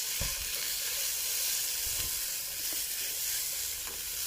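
Rice stir-fried with budu chili paste sizzles steadily and loudly in a hot pan, with occasional soft scraping strokes of stirring under the constant hiss.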